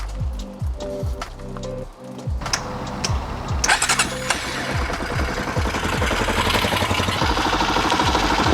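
A motorcycle with a slightly leaky fork seal, otherwise standard, cranks over with rapid repeated starter pulses, then fires and settles into a loud, rough idle that continues to the end.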